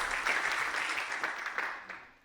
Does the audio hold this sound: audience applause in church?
yes